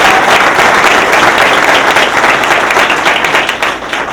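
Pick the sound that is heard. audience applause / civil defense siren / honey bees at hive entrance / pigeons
audience applause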